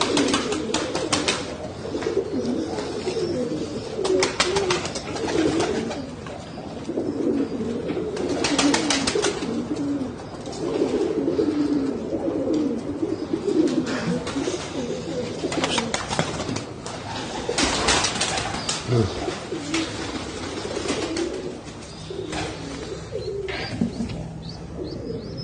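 Pigeons coo repeatedly in soft, overlapping phrases from a loft of pure-bred Chinese-type birds in Namangan, with occasional chirps and wing rustles around them, fairly close and steady throughout.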